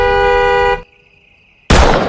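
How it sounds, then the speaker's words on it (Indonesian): A car horn sounds one loud, sustained blast of under a second, cutting off abruptly into near silence before a sudden loud burst of noise breaks in. "Samsul langsung memberi kode kepada broker dengan mengklakson mobilnya."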